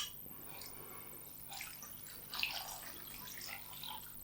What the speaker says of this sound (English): Pop the beef into the pan, the salt and the pepper, and pour the stock over it.